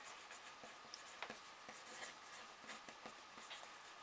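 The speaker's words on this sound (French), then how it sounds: "vous écrivez" A pen or pencil writing a short note by hand on a scrap of paper, quiet scratchy strokes in irregular bursts and pauses, close and alone.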